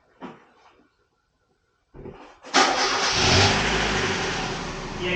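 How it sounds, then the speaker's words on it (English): A couple of clunks and a starter crank, then a 1991 Mazda Miata engine catches and settles into a loud, close idle with a slight lifter tick. "we're going to listen now to see if there's any lifter tick"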